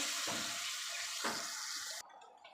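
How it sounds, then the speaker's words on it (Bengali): Lentil fritters (bora) fry in hot oil in a wok, giving a steady bright sizzle with a couple of softer bubbling bursts, then the sizzle cuts off sharply near the end. "তেল দিয়ে বড়াগুলো আমি ভেজে নেব।"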